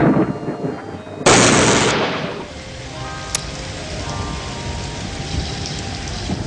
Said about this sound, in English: A very, very specific rain cloud.